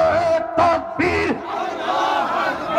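A large crowd roars back in unison, a religious rally chant answering "Naraye Takbir" at an outdoor waz gathering in Faridpur, with two sharp collective shouts followed by a sustained crowd swell.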